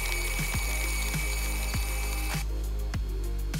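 A Dolmar FH2500 branch shredder chews through branches with a steady motor drone, broken by repeated sharp cracking bursts as wood is fed and chipped, loud and close, with no talk.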